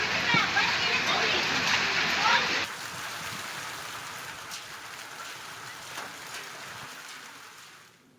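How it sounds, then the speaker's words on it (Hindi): Heavy stormy rain with hail pours down at Phalsund in Rajasthan. A dense, hissing wash of rain is loud at first, then drops abruptly to a quieter steady patter with scattered impacts, fading out at the end. "तेज तूफानी बारिश के साथ ओलावृष्टि देखने को मिली"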